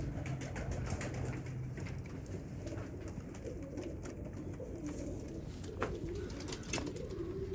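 Several pigeons of a Sialkoti breeding setup coo in soft, low rolling calls within a noisy loft, with scattered chirps and rustles around them.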